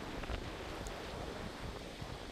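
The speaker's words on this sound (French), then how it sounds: "Oh là là, le vent." Wind blowing the day after a storm, a steady faint rushing broadband noise with low gusty rumbles and no voices.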